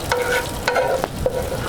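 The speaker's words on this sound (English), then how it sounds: "I'm gonna kind of scrape a little bit of the drippings loose in here." Spoon scraping round steak drippings loose in a hot Dutch oven, with a steady sizzle and several scraping strokes against the pot bottom, close and fairly loud with no talking.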